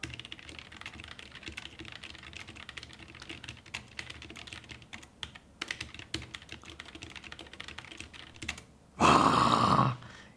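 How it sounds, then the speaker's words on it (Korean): Rapid typing on a portable foldable 68-key mechanical keyboard with red linear switches, producing a steady patter of soft, close keystrokes for several seconds and ending in a louder burst of a key being held down or held near the microphone. "일단 타건 한번 해볼까요?"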